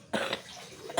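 A person coughs close by: a short, harsh burst followed by a second rough cough about a second later, with brief quiet between them.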